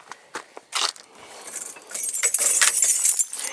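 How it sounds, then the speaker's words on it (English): Car keys jingle and clink close up as they are pulled out, a few short metallic rattles followed by a longer, busier stretch of jangling, with no talking. "I need to probably take the keys out and roll the window up"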